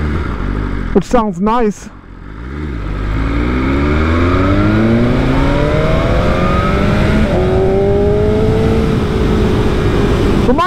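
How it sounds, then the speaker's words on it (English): A BMW S 1000 RR sport motorcycle engine revs and climbs in pitch in a loud, sustained run after a short spoken remark, its note rising steadily close by. "when you downshift, it does give you a little pop"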